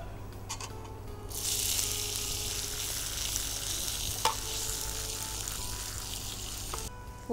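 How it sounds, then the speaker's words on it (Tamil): Cinnamon and cardamom tempering frying in hot oil, a steady loud sizzle that swells in after a quieter start and holds for several seconds, with a faint clink partway through. "தாளிப்புக்கு வந்து பட்டை, ஏலக்காய், ஆயில் டு ஃப்ரை,"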